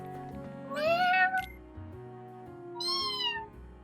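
Two kitten-like meow sound effects, high and thin, the first longer and louder, the second a brief fainter cry a moment later, over a low steady background hum.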